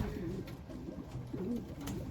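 Domestic pigeons coo softly nearby, low throaty rolling calls repeating over a steady background hiss, with a few faint flutters.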